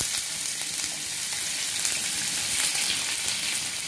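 Finely chopped onion sizzles steadily in hot oil with cumin seeds, a dense, even frying hiss close up with no talking.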